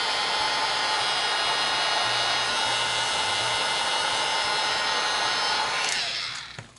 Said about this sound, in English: just heat it with your heat gun.